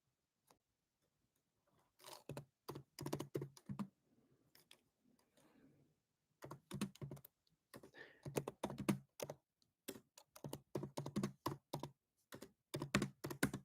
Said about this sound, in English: I'm typing a text with one hand.